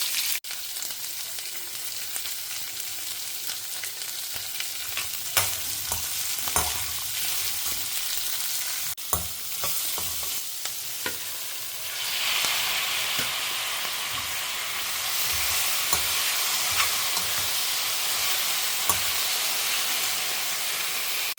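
Chutney ingredients sauté in hot oil with intermittent stirring, a steady sizzle and occasional utensil knocks that swell into a louder, hissing steam-like fry midway through.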